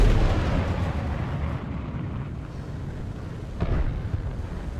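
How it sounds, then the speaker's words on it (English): Missiles fired at a jet in the aerial-combat video game War Thunder, heard as a constant dense roar of blasts and rumbling explosions with a louder burst around the middle, loud throughout. "God, how many missiles are you gonna fire?"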